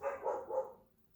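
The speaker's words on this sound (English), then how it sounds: "my dogs have to bark right here at the back door" A dog gives a quick run of three barks close by, then falls quiet.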